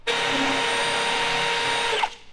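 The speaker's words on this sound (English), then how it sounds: "Just drilling just enough." Close, loud Roto Broach cutter drills steadily through laser welds along the gutter of a lifted limousine roof, one continuous whirring burst of about two seconds that winds down at the end.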